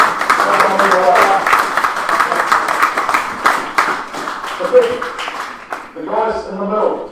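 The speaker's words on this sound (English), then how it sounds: "Big round of applause." A crowd at a rugby final claps steadily in sustained applause, dense and fairly close, with a voice speaking over it near the end.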